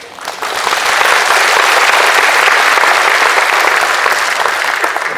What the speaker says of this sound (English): A big round of applause again.